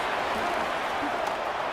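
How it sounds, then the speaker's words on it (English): Spectators in an EA Sports American football video game cheer and roar in a steady, dense wash of noise, a continuous crowd sound with no break. "The crowd is definitely ready."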